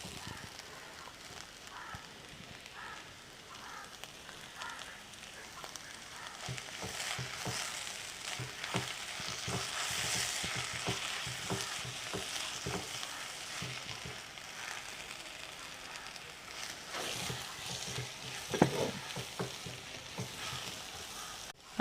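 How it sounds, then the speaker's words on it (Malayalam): Chicken masala with onions sizzles in oil in a pan, a soft steady frying crackle broken by the scrape and clatter of stirring, rising as the mixture is turned and settling again. "നമുക്ക് നന്നായിട്ടൊന്ന് വഴറ്റിയെടുക്കാം"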